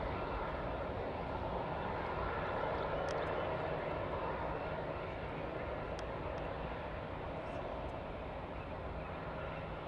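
A large jet, a C-17, taking off at Charlotte Douglas Airport, a steady broadband engine roar holding loud and even throughout, with no clear talk over it.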